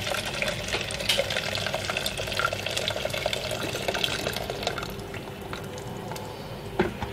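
Water being added to a pot on the stove with dried hibiscus, 1.5 litres in all, a steady close pouring and splashing wash that runs for several seconds before thinning out.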